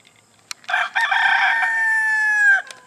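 A rooster at a chicken coop lets out one loud, close crow that holds a long drawn-out note, preceded by a brief sharp click and followed by quiet.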